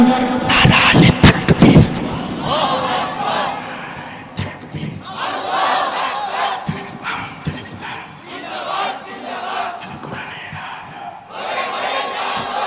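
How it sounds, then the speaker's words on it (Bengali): A large crowd chants slogans together in unison at a Bengali religious rally in Mymensingh, loud, rhythmic group shouting that swells and falls continuously. "সবাই মিলে একই তালে দাও না স্লোগান।"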